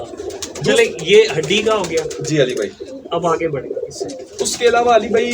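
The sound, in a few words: pigeons cooing in a pigeon loft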